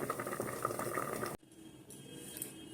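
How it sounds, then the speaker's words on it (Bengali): Poppy seed paste steaming in a covered pot, bubbling with a soft, steady boiling burble for over a second before cutting off abruptly into quiet room background with faint clinks. "আওয়াজটা শুনতে পাচ্ছ টকবক টকবক করে ফুটছে"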